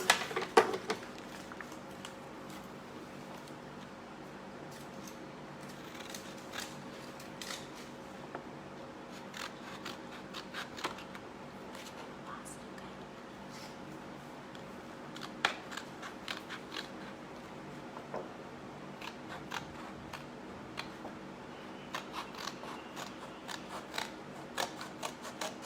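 Scissors cut paper for a handmade Mother's Day card, with repeated crisp snips and rustles spread unevenly over a long stretch. A quiet steady hum sits underneath and no one speaks.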